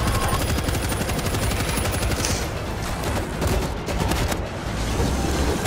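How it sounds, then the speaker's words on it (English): Rapid automatic gunfire mowing down zombies in the World War Z game, loud and sustained with dense overlapping bursts and fusillades continuing throughout amid chaotic background roar. "I'm shooting the zombies on your back"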